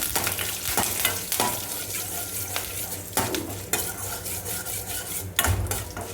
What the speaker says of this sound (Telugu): ఉద్దిబ్యాళ్ళు వేసుకొని ఫ్రై చేసుకోవాలి.